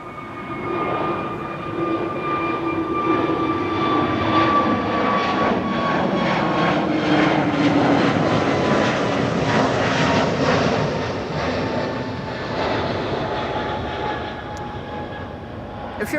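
A Qatar airliner being pushed back at Amsterdam Schiphol Airport, its jet engines giving a steady, loud whine and roar that swells and holds throughout with a faint rail-like rumble beneath.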